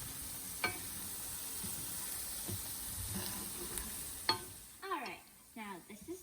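Garlic and onions sizzle in a pan at a soft, low level, with occasional spoon clicks and stirring. A voice talks over the frying near the end.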